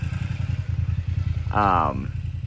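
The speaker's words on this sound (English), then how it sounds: "we've got a guy going by on a motorcycle" A motorcycle engine drones steadily nearby, then a brief rising whine swells over it for about half a second before settling back.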